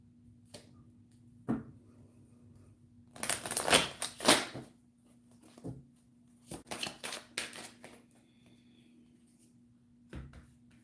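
Tarot cards shuffled in short riffling bursts, one long flurry followed by a few quicker sets and sparse single clicks, close and alone over a low steady hum.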